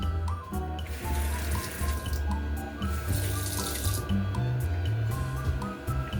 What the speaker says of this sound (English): Water is working again.